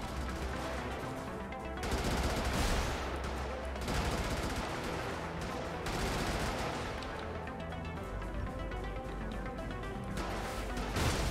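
A chain gun firing in the video game Brigador, long dense bursts of rapid gunfire that go on nearly without pause, loud and close, with the rattle swelling and easing between bursts.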